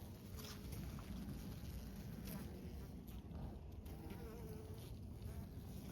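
Bees feeding on sugar in late winter hum as a steady, faint buzz close by, with a constant drone throughout.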